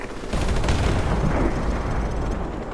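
Dense gunfire in Call of Duty Modern Warfare Remastered, a loud sustained rattle of automatic shots and blasts filling the scene without a break.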